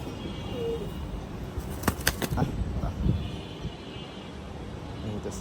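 Pigeons in a loft, some of them molting, give soft low coos alongside a few brief wing flutters and light rustling, heard close at moderate volume.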